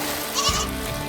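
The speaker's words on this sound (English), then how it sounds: "the goats are on the beach" A goat on a beach gives a short bleat, a brief nasal call rising over a steady background hum in a children's cartoon.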